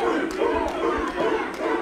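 A wrestling arena crowd cheers and chants during a tag team match, a dense, steady roar of many voices with rhythmic pulses, fairly distant and continuous.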